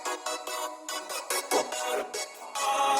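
Chopped chord and vocal chop layers from an electronic breakdown stutter in short, choppy bursts, loud and slightly harsh, with no talking over them.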